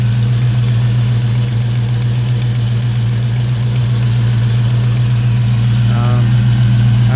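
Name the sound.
1989 Ford Mustang LX engine idling with cylinder noise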